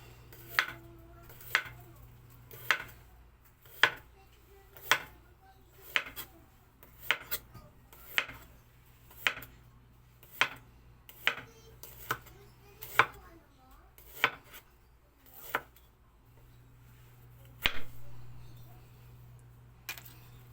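Ginger chopped with a knife on a board, about fifteen distinct close knocks in an uneven rhythm against a faint steady background hum, with a short pause before the last few cuts.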